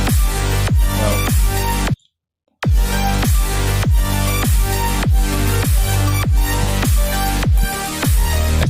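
A punchy electronic laser kick drum, panned left, thumps in a steady four-on-the-floor pulse with bright, zapping tops, dropping out briefly for a gap before resuming at full power.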